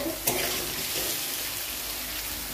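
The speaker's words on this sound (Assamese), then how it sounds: "আলুখিনি ভাজি হৈ গৈছে" Potato pieces frying in oil in a home kitchen pan give a steady, close sizzling hiss that runs evenly throughout, with a brief clatter near the start and no talking.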